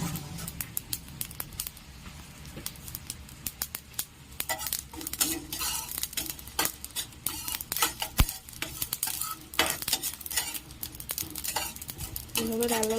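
Whole cardamom, black peppercorns, cumin and fennel seeds frying in a pan, with a soft crackle under repeated scraping and clinking of a metal spatula stirring against the pan, irregular taps and scrapes close up.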